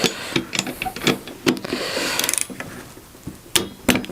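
A torque wrench clicks while tightening the bolts of a Varifold folding sailboat propeller, giving several sharp, close mechanical ratchet clicks in an irregular sequence.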